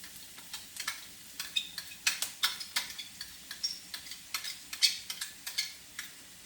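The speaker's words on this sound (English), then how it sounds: "I'm going to drop in like the garlic and also onion" Garlic and onion frying in a pan for chow mein, with a steady run of sharp stirring scrapes and crackles over a soft sizzle, close and moderately loud.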